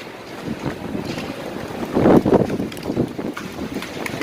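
Sandstorm wind blowing in the UAE, a steady broadband roar with gusty swells, peaking loudest around the middle, with no talking.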